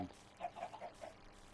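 Minecraft chickens give a few short, quiet clucks in quick succession, faint and close together over a near-silent background.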